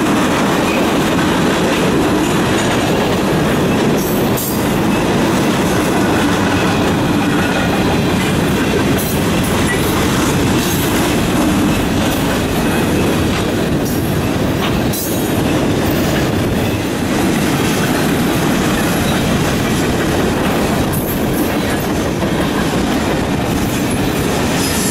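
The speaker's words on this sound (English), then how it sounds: "two General Electric units lead an eastbound train on the Flint Subdivision past" An eastbound CN freight train led by two General Electric locomotives rolls along the Flint Subdivision past the Durand Depot in Michigan. It gives a loud, steady rumble with continuous wheel clatter and occasional squeal, heard up close for the whole stretch.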